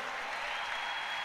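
Church congregation clapping together in a brief, even burst of dense applause that fills the room at a moderate level.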